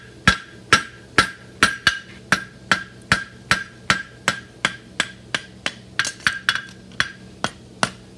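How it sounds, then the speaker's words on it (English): A hammer edge strikes a metal blade edge in a steady rhythm, about twenty sharp ringing blows, loud and close, with a few quicker strikes near the end. "right now I'm hitting with the edge of my hammer"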